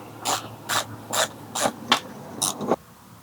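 Ratchet wrench loosening a small bolt on the air intake of a Yamaha R6 sport motorcycle, seven quick bursts of clicking, close and fairly loud, then silence.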